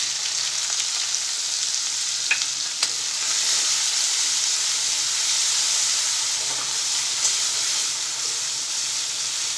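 Finely chopped onion sizzles steadily in hot oil with asafoetida, a close, continuous frying hiss with a few faint stirring clicks and no talk.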